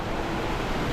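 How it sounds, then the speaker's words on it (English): Heavy rain pours outside a cave in Okinawa, a dense, continuous wash of noise lasting about a second, with no voices. "Holy moly, that is a lot of rain."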